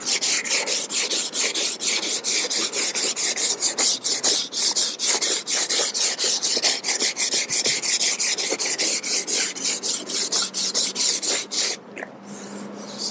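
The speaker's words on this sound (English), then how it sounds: "this 80 grit's cutting this Bondo really," Bondo filler on a surfboard is sanded by hand with 80 grit sandpaper, a loud close rasping scrub repeated in a fast, steady back-and-forth rhythm of many strokes, briefly pausing near the end before resuming.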